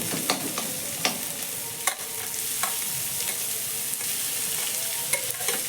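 Capsicum and mixed vegetables fry in a pan, a loud, continuous sizzle broken by repeated sharp scrapes and clacks of a spatula stirring, heard close with no one talking.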